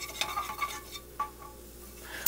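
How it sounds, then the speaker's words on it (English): Herbs and spices being stirred in a cooking pan over low heat, quiet scraping and light clinks of a utensil against the metal at an irregular pace, with a faint sizzle underneath. "you stir all the time and that'll stop it from being burnt"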